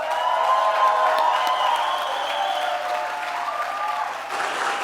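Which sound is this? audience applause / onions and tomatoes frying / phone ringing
audience applause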